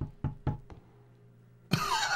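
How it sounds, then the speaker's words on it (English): Knocking on a window in the horror video game Rewind or Die: three sharp, evenly spaced knocks, then a sudden loud burst of harsh game noise. "there's a mysterious guy with a pig mask knocking on the window"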